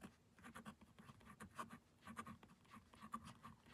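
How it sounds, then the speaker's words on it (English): Pen scratching across paper while noting down a budget figure, close and quiet, in short bursts of strokes with small pauses between, soft rustling texture and no talking. "Just gonna write down here"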